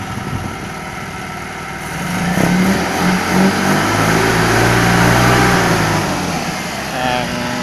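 A car engine fitted with an HHO generator idles steadily, then climbs into a sustained rev and eases back, close and loud with someone speaking over it.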